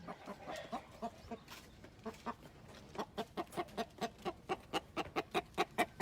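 Hens at a backyard flock in Lake Elsinore cluck close by, starting with scattered clucks that build into a quick, regular run of louder clucks.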